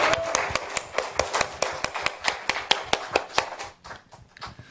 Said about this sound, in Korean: 우리 뜨겁게 박수 한번 더 쳐드릴까요?